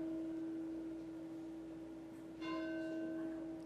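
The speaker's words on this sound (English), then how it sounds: "we'll just enjoy the bell for a minute." A church bell rings at Industry United Methodist Church before a traditional Sunday worship service, holding a steady sustained tone that swells again with a fresh strike partway through, fairly close and heard alone without talk.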